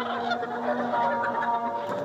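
Layer hens in a poultry shed cluck and murmur continuously, a dense overlapping flock chatter heard close and steady throughout with no talking.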